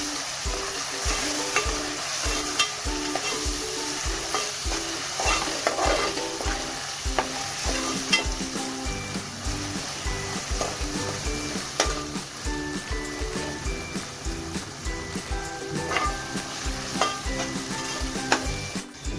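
Onions fry in a pan with two spoons of ginger garlic paste over lowered heat, a close, continuous sizzle under rhythmic stirring scrapes and the odd light clink of a utensil against the pan, with nobody speaking.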